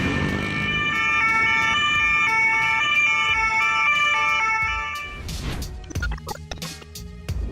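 Ambulance siren wailing in traffic in Poland, a loud continuous multi-tone siren holding close for several seconds, then cutting off into road noise and brief clatter.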